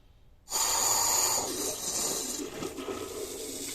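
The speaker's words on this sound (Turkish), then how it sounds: "Açıyorum şu anda. İlk önce hava gelecek." Air sputtering and hissing out of a newly opened household water supply line, a sudden loud close rush that starts abruptly and keeps gurgling and spitting as water begins to come through.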